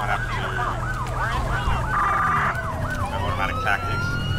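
A police siren from a GTA5 LSPDFR siren pack wails loud and continuous, rising and falling with a rapid yelp in the middle, with no talk over it.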